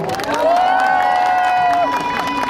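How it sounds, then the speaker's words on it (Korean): A crowd at a Hansol-dong election rally cheers and claps for a city council candidate, with a long sustained shout riding over dense, loud crowd noise. "우리 한솔동의 안찬영 시의원 후보님도 오셨는데 박수 한 번 해주시죠"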